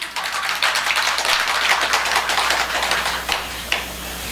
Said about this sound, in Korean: 이럴 때 박수 한번 쳐야 되는 거 아니에요?